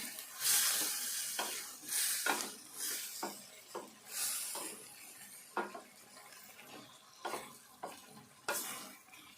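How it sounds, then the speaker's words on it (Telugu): Brinjal pieces and spinach fry together in a pan, a soft sizzle broken by repeated scraping stirs of a spoon against the pan, close and clear with no talk. "ఈ వంకాయ ముక్కలు కూడా ఈ పాలకూరతో పాటుగా వేగాలి మంచిగా"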